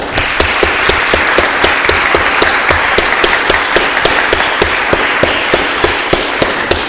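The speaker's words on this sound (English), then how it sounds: "Let's give them a round of applause." An audience applauds steadily, a dense crowd of clapping hands sustained at even volume throughout, with no voices over it.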